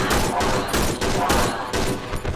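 Shotgun fire in the horror video game Cry of Fear: several loud, close blasts go off in quick succession, each with a short echoing tail.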